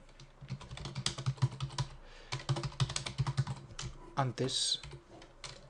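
Keys on a computer keyboard clatter in quick, uneven bursts of close clicks and taps, with brief pauses between runs and a louder keystroke cluster near the end.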